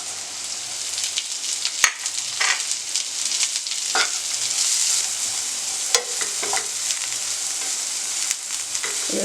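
Onion frying in oil in a pan for black chana soup, a steady close sizzle with several sharp spatters and brief stirring scrapes and knocks scattered across the stretch, no voices.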